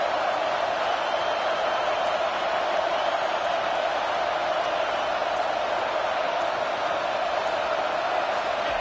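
Football stadium crowd in the video game College Football 25 during NC State versus Florida State, a steady, even roar of cheering with no breaks, moderately loud and distant.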